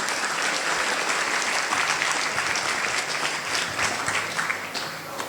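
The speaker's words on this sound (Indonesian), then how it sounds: "Tepuk tangan dong, masa enggak tepuk tangan?" Loud, dense applause fills the hall from an audience at an Isra Mi'raj religious gathering, sustained throughout without a pause.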